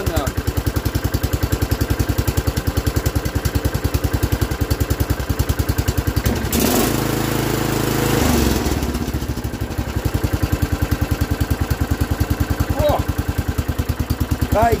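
Small single-cylinder engine of a John Deere 115 lawn tractor after an engine change, with oil that filled the exhaust burning out of it, idling steadily with a rapid even pulse throughout, a brief surge of revving near the middle, while someone talks over it.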